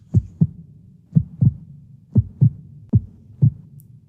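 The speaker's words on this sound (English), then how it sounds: "there's a faster heartbeat." A fast heartbeat game sound effect thumps in paired lub-dub beats, four double pulses at a quick, even pace, low and close with a soft hum between.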